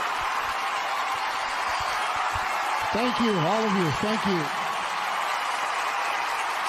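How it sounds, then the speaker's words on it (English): Audience applause for wounded veterans at a South Texas stand-up comedy show, a steady broad wash of clapping throughout while someone speaks over it into a microphone. "Clap for them. Those are the stars."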